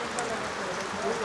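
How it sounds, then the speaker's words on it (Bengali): Heavy rain falls around a floating restaurant, heard as a brief, soft, continuous patter. "বৃষ্টি হচ্ছে"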